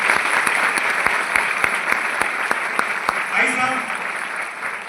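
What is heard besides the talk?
audience clapping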